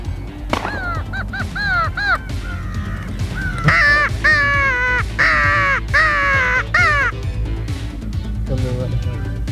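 Crows caw repeatedly during a crow hunt from a blind as they are called in, a series of loud, harsh calls in irregular bursts, some overlapping, close by.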